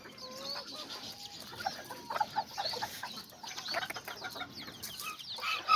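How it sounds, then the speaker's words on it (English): A small silkie hen clucks softly among other chickens, a few short, scattered clucks and chirps at low volume near the coop, with no talking. "the little silky hen"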